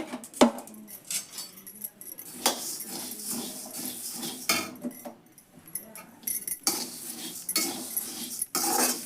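Whole spices for homemade garam masala dry-roast in a hot iron pan without oil, stirred close up with irregular metallic clinks, scrapes and rattles.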